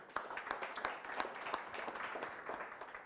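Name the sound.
audience applause for the speaker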